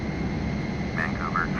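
A Douglas World Cruiser's engine in a flight simulator holds a steady, dense drone at cruise with no break. A few faint higher tones drift over it near the end.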